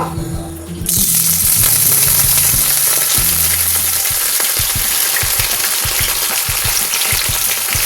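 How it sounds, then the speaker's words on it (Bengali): Hilsa fish paturi parcels go one by one into hot mustard oil, setting off a sudden loud, sustained sizzle and crackle close up, with soft knocks as the parcels are placed and no voices. "তেলটা আমার গরম হয়ে গেছে। এখন আমি একটা একটা করে পাতুরি দিয়ে দেবো।"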